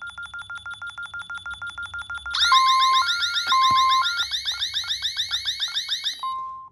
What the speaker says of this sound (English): That's what the siren sounds like.